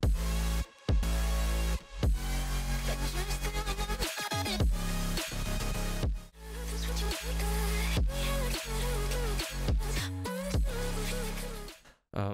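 Aggressive future trap drop with heavy sub-bass, punchy drums and bright, dense synth chords and leads, playing loud and continuous with short breaks where the beat cuts out.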